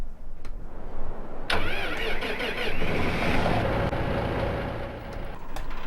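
Simulated Massey Ferguson tractor engine from Farming Simulator 15 starting up after a brief click, then settling into a steady mid-pitched rumble and idle, close and fairly loud with no talk.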